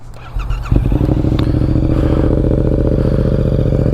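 A Yamaha MT-07 motorcycle with a full aftermarket exhaust system cranks and catches, then settles into a loud, close, throbbing idle with a burbling exhaust note.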